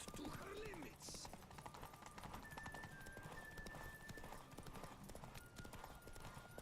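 Roach the horse gallops in The Witcher 3, a steady, loud clip-clop of hooves running throughout, with an occasional whinny and game music and ambience underneath.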